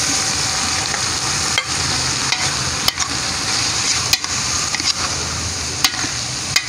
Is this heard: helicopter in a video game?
no